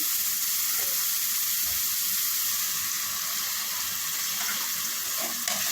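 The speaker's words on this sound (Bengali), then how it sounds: "নিয়ে একটু পানি দিয়ে দেবো" Water poured into a pan of spices frying with coriander powder for a Chittagong-style dish, giving a loud, steady hiss of sizzling that holds through the whole stretch, close up, with no talking.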